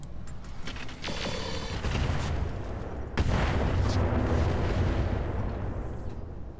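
Mech weapons in the Roguetech video game fire in heavy volleys, loud booming blasts and rumbling explosions rolling together, with a second big salvo hitting partway through.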